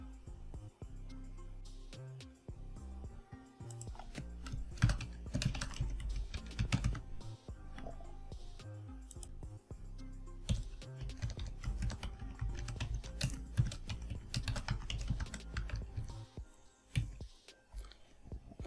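Typing on a computer keyboard while entering a WordPress shortcode, with bursts of close, rapid key clicks broken by short pauses, alone without talk.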